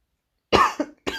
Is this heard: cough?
yes